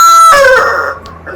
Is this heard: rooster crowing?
yes